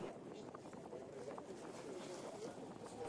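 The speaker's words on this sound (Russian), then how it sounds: "Проходим на катере мимо Дворцового моста, Зимнего дворца" Tour boat cruising on the Neva River in Saint Petersburg, passing the Palace Bridge and the Winter Palace, with a steady engine and water rumble under a continuous wash of wind and ambient noise.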